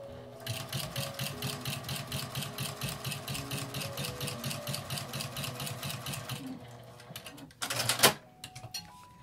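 A home sewing machine stitches laminate fabric in a fast, even mechanical chatter for about six seconds, then stops, followed by a few brief clicks and handling noises close to the microphone.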